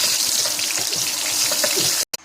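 Water is poured into flour dough for nimki that has been mixed with cumin, salt and oil shortening: a steady, close splashing rush that lasts about two seconds, stops abruptly, then gives one short final splash.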